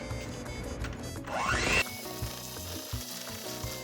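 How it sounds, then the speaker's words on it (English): Chocolate pie filling being mixed as eggs are added one at a time, likely by an electric mixer, giving a steady whirring churn that swells into a louder burst midway and then settles into lighter clatter and scraping. "1 egg at a time, and mix really well to incorporate."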